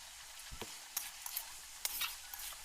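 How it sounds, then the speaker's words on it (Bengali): Cauliflower and pumpkin pieces sauté in a pan for a Bengali vegetable curry, giving a faint steady sizzle broken by soft scraping clicks from stirring. "কষানো নাড়াচাড়া করে ভালোভাবে কষে নেবে"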